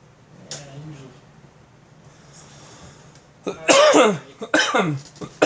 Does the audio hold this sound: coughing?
yes